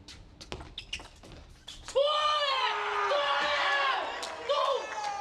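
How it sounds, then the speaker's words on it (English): Excited screams and shouts from China's men's table tennis team as they celebrate winning the team final at the Tokyo 2020 Paralympic Games, loud voiced cries rising over a thud and the arena crowd. "Screams of joy for China."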